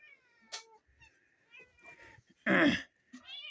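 Cats on a farm give several distinct meows, one short high cry early and a loud drawn-out meow near the end, with quiet shuffling between them.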